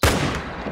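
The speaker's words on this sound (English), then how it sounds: "Taking the shot." A single loud rifle shot fired at a mule deer in The Hunter: Call of the Wild hunting game, with a sharp close crack followed by a short decaying echo.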